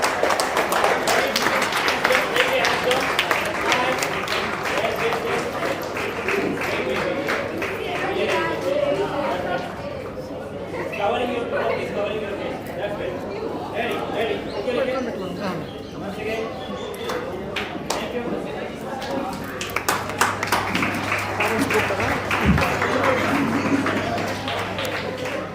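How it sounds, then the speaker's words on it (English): An audience at a young authors' book launch applauds in a steady, sustained round of clapping mixed with crowd chatter, filling the room for the whole stretch. "Huge round of applause."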